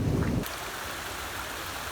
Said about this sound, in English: I'll get out of the rain already.